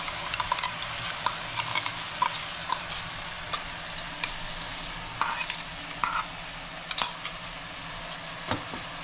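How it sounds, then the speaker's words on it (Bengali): Mutton frying in ghee for a Mangalorean ghee roast while ground masala paste is stirred in, giving a steady close sizzle broken by repeated spoon scrapes and clicks against the pan, with no talking. "আর আমি এই মশলা পেশা যেটা রেখে দিয়েছি দেখুন, এইটাকে মিশিয়ে নিচ্ছি।"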